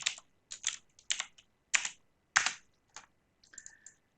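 Keystrokes on a computer keyboard in short separated bursts, clicking clearly and close up over near silence, with no talk.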